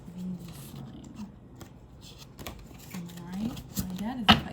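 Tarot cards being shuffled by hand, soft riffling and sliding with scattered sharper snaps, close by, under a low hum and faint murmuring voice.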